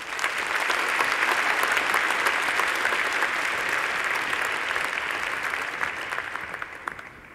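A hall full of people applauds graduates of an engineering faculty at a graduation ceremony, the dense clapping building quickly, holding steady, then thinning and fading toward the end.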